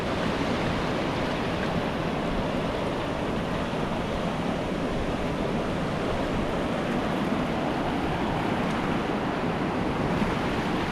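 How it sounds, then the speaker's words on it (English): Shallow surf rolls onto a beach during low-water sea fishing, a loud, steady wash of breaking waves with wind rumbling across the microphone and no voices. "Yeah, we've got shallow surf here."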